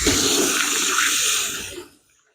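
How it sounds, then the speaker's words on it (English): Water runs from a tap outdoors while hands are washed beside a propane turkey fryer, a close, steady hiss that fades out and stops near the end. "Let me wash my hands off"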